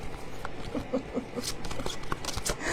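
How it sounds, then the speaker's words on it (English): Tarot cards shuffled close by in a steady patter of soft card slaps and riffles over a noisy background, with some voice-like sound mixed in. "let's shuffle these and see which one comes up first."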